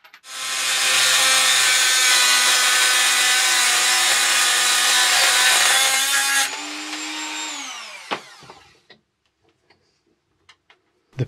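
An M5 bolt held in a vise is cut with a power saw, a loud, harsh grinding whine that runs continuously, then winds down, followed by a few faint clicks and taps.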